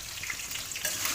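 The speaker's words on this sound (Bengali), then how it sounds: "এই হলুদ, নুনটা দিয়ে আলুটা ভেজে নেবো।" Potatoes fry in a pan with turmeric and salt, giving a short burst of continuous hissing sizzle close by, with no voices.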